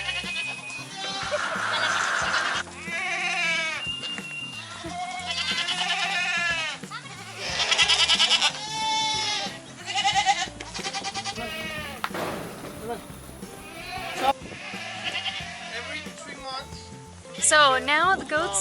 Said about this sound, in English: the goats have been released and are walking around